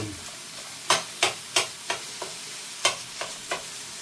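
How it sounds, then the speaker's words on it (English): Minced beef browning in a frying pan: a soft sizzle under a series of sharp scraping and stirring strokes that come in irregular bursts, close and fairly quiet, with no talking. "I'm just going to cook the mince until it's brown"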